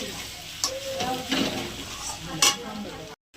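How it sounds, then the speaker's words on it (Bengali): Mushrooms with meat masala sautéing in a pan, a steady close sizzle broken by a few sharp scrapes of stirring, with low talk in the background, cutting off abruptly at the end. "আর একটু কষাবো মিট মশলাটা দেওয়ার পরে"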